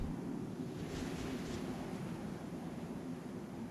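Steady wind and weather noise on a moon in Star Citizen, a continuous broadband rushing roar heard alone at moderate level.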